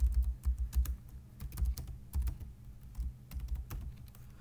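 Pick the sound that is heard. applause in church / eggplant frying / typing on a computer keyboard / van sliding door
typing on a computer keyboard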